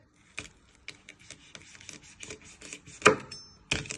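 Knife slicing a de-seeded pepper on a chopping board, a run of crisp, close cutting taps in an uneven rhythm, with one louder chop near the end and no talk.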